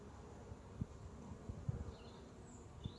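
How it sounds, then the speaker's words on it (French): Honey bees buzzing steadily around a hive, a soft continuous drone with occasional louder passes as individual bees fly close, heard alone without talk. "Il faut bien s'occuper de ces abeilles."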